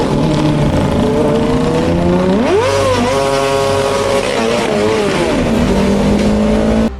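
A loud Kawasaki ZX-6R motorcycle engine revs continuously, its pitch climbing and dipping through several throttle bursts, close up and steady throughout.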